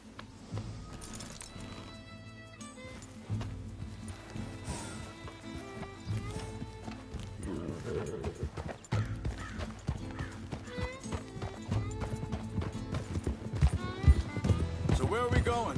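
Horse hooves clip-clop in Red Dead Redemption 2 amid game music and effects, with a horse whinnying and characters speaking over the rhythmic hoofbeats.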